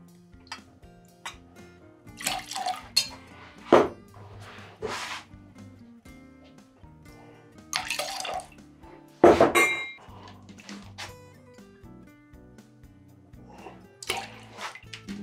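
Lemon juice poured into a cocktail shaker tin already holding rye whiskey while mixing a Ward 8 cocktail, heard as brief liquid splashes and clinks of glass and metal at close range, spread across a quiet kitchen scene.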